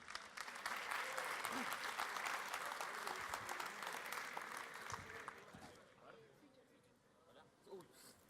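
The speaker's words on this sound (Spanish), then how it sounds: "fuerte aplauso para Federico, nuestro nuevo orador." An audience at a programming talk applauds a new speaker, dense clapping that holds strongly for several seconds before thinning out and fading, with a voice emerging near the end.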